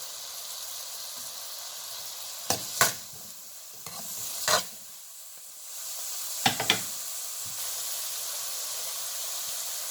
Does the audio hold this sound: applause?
no